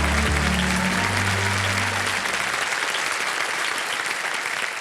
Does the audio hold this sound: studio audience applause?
yes